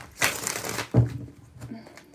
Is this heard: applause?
no